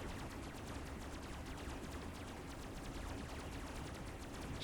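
Three SMGs mounted on a robot vehicle in Robocraft fire in rapid, continuous bursts. The rattle is dense and steady but fairly faint and distant, and no voices are heard.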